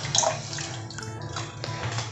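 Ground rice paste with cardamom and sugar being poured into boiling milk for a mango dessert, a short, moderately loud, splashy liquid pour heard on its own.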